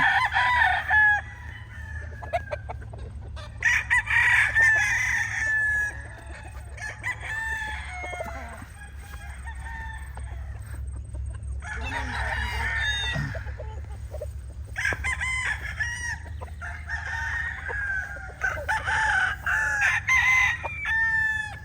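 Python Gray gamefowl offspring crow repeatedly in a farm yard, several long cock-a-doodle-doo calls overlapping from nearby and farther birds, with clucking and a low steady hum between them.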